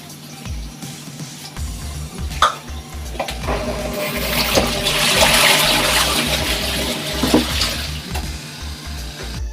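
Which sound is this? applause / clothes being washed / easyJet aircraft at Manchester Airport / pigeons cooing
clothes being washed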